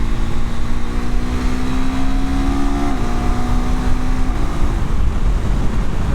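KTM 390 Adventure R motorcycle engine under way, a loud continuous drone with rising tone that drops at a gear change, then climbs again over steady wind rush.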